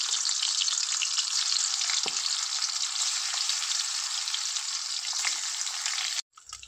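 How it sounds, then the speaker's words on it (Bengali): Fish rubbed with turmeric and salt frying in hot oil, a loud, steady crackling sizzle that holds for about six seconds before cutting off abruptly, with no voices. "তেলের মধ্যে দিয়ে দিলাম মাছ।"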